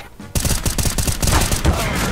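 Video game gunfire in Counter-Strike: Global Offensive, a loud burst of rapid automatic shots starting abruptly and continuing in a sustained, slightly uneven fusillade with no voices.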